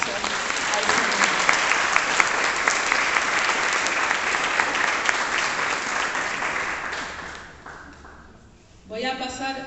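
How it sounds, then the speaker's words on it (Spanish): Congregation applause at a live church service, a sustained roar of many hands clapping that gradually fades out, then a voice begins speaking near the end. "Démosle un aplauso al Señor."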